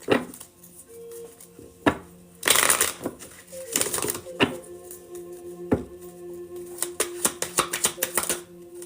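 Tarot cards are shuffled up close in irregular bursts of papery riffling, sharp slaps and taps against a quiet room.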